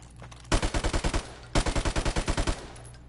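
Two bursts of rapid automatic fire from an MP44 assault rifle in Modern Warfare Remastered, each about a second long with a steady clipped rhythm of loud, close shots and a short pause between them.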